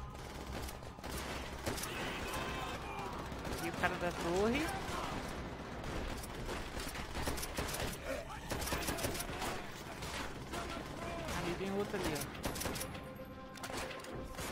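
Continuous gunfire from the video game Call of Duty: World at War, with rapid bursts of rifle and machine-gun shots and battlefield clatter that stay dense and loud throughout under game audio.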